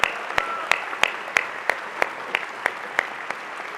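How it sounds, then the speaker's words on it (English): A charity dinner audience in New York claps together in a thin, evenly paced round of applause that fades slightly, with no voices over it. "we all owe Al Smith a great, great round of applause."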